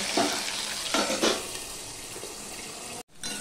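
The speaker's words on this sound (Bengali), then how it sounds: "এবার আলুটাকে কিন্তু আমি ঢাকা দিয়ে দিয়ে ভেজে নেব।" Potatoes frying in oil in a covered pan, giving a close, steady sizzle with a few brief stirring or lid bursts, then a short break near the end.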